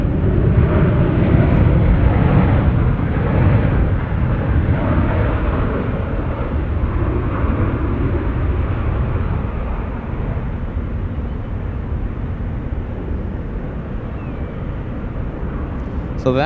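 A Boeing 787 airliner at San Francisco International Airport roars steadily and loudly for the whole stretch, a broad continuous jet engine rush that slowly eases in level, with no talk over it.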